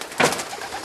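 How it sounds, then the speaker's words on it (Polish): A pigeon gives a single short coo inside a breeding loft, close and soft against a faint background hiss. "Tutaj te gołębie widzimy."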